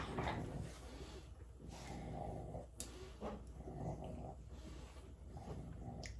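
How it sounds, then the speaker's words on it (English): Low growls, snorts and heavy breathing from dogs, fairly quiet and continuous, with some scuffling in the background. "All those noises you hear are my dogs"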